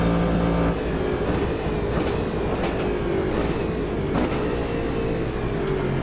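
A Cadillac DPi race car in the Automobilista 2 video game, its engine a steady, loud, rumbling drone at a constant pitch, held without talk across the whole stretch.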